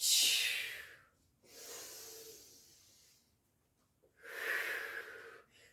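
Deep breathing during a standing Pilates stretch and tone workout: two long, airy breaths, then a third strong exhale, close and fairly loud, with quiet gaps between.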